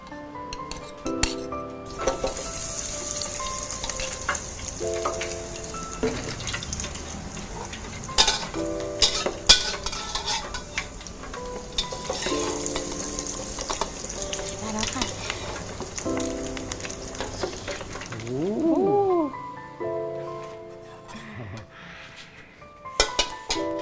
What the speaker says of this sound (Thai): เจียวไข่เลยนะคะ